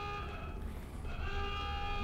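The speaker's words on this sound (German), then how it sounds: "Das geht überhaupt nicht auf die Nerven, diese Tröte" A vehicle horn blares in Deus Ex at the western end of the docks, a steady droning toot that holds for two seconds over low background ambience.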